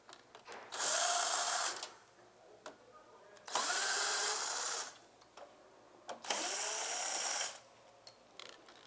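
A power drill removing screws from an arcade system whirs in three bursts of about one to two seconds each, separated by short pauses with faint clicks, fairly quiet and close.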